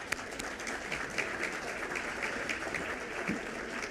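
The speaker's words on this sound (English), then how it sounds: "Let's give them a round of applause." An audience at a fall luncheon applauds, giving a steady, even patter of many hands clapping that holds at moderate loudness for the whole stretch, heard from some distance in the room.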